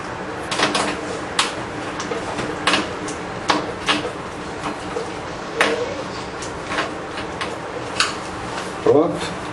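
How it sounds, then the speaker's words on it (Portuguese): Small screw being driven into a computer graphics card during PC maintenance: a series of light, sharp metallic clicks and scrapes, close and fairly quiet, repeating irregularly over a faint room background. "Colocar o outro parafuso."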